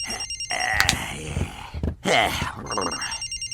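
A cartoon telephone rings in repeated bursts, loud and close, with the show's voices talking over and between the rings.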